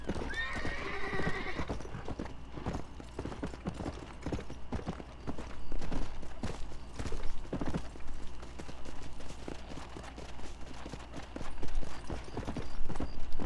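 Horse hooves clip-clop steadily on a road in the Red Dead Redemption video game, a continuous rhythmic trot at moderate volume with a brief whinny near the start.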